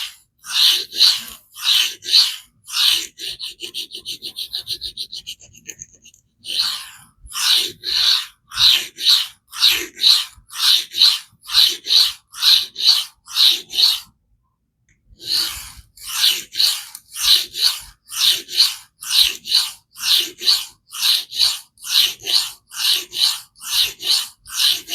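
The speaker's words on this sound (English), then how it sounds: "I'm just going to cut the burr off because I want to remove a decent bit of steel." A CJRB Pyrite Lite knife with AR-SFII blade steel is drawn across a diamond sharpening plate in a long run of steady, rhythmic scraping strokes that pause briefly about halfway through, then continue at the same even pace.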